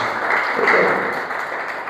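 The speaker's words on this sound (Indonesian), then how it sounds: "Beri dulu tepuk tangan terbaik buat Tuhan Yesus" A church congregation applauds together during a sermon, a dense steady patter of many hands that holds for about two seconds, fairly loud and close, with no speech over it.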